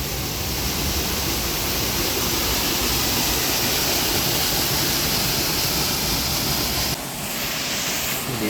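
Steady, loud roar of a small waterfall near Dudhsagar heard from a passing train, a dense continuous wash of rushing water that barely changes over several seconds, with no voices.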